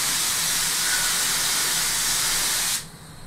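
A hot metal part, just passed through a flame during chemical metallization, hisses steadily and loudly as it is cooled with water, then cuts off abruptly near the end.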